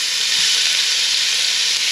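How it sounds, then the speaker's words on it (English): Seasoning frying in a pan for a Guyanese fish broth, giving a steady, close, bright sizzle and hiss that holds evenly throughout with no talking. "I'm going to start frying up my seasoning"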